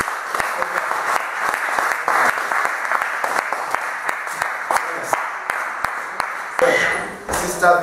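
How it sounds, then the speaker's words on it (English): Church congregation clapping for the children during a service, a steady spread of hand claps with a few sharper slaps standing out, voices mixed in under the applause before it thins near the end. "Let's clap for the children."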